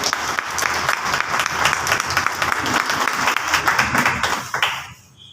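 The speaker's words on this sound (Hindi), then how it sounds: "एक बार इनके लिए जोरदार तालियां होने।" Lively applause at a training meeting, many people clapping close by in a quick, uneven rhythm with sharp individual claps standing out, building briefly before stopping abruptly near the end.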